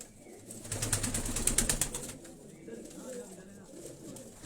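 A high-flying pigeon held in a man's hand flaps its wings in a quick burst of fluttering, then quieter rustling and faint cooing, with soft background noise around it.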